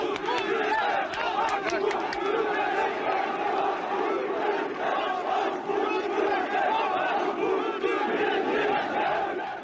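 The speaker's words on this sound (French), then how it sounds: "le colonel Türkeş a du mal à échapper à l'enthousiasme de ses militants." At a nationalist party political rally in Turkey, a dense crowd of enthusiastic supporters shouts and chants in unison, a loud, continuous roar of many voices filling the whole stretch without a break.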